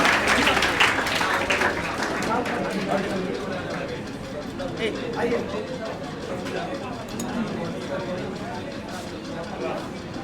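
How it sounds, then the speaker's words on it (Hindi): A large crowd at an award ceremony claps steadily and loudly, the applause dense and continuous for the whole stretch, with chatter mixed beneath it. "इनके लिए एक बार जोरदार तालियां"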